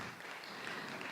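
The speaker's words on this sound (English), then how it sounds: "can we please give him a round of applause as well?" An audience gives a round of applause at a vlog contest, a dense, even patter of many hands clapping, moderately distant and steady throughout.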